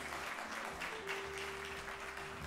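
Sustained applause from an audience of parents and grandparents at a national children's singing contest, a dense steady clatter of clapping lasting throughout with a faint tonal hum beneath.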